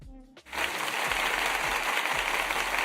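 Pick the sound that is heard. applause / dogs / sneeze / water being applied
applause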